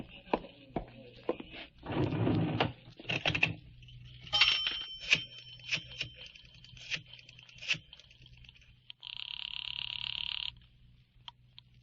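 Someone placing a phone call on an old radio drama: clicks, dial and handset handling noises, a few sharp dings, then a steady telephone ring tone before it cuts off, in a quiet room.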